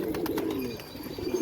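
Hungry pigeons coo softly nearby in a short burst of low, throaty murmurs mixed with light fluttering and rustling.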